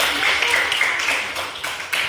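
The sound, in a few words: class clapping hands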